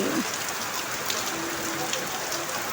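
Heavy rain pours steadily on a rainy morning, a dense, even hiss of drops that fills the whole stretch without pause.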